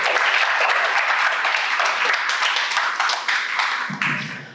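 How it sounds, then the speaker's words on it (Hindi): Applause from a lecture audience in Pakistan, dense and continuous, then thinning and fading toward the end as a low voice begins underneath. "काजी के लिए बहुत सारी तालियां होनी चाहिए"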